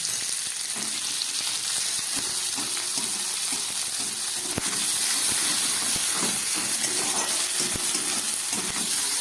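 Chopped dried red chillies sizzle in hot oil in a home kitchen pan, a steady close crackling hiss with faint stirring clinks, running alone without voices.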